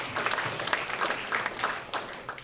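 Audience applause at a tech demo night in San Francisco, a brief, moderately faint patter of many people clapping steadily, heard alone without talk.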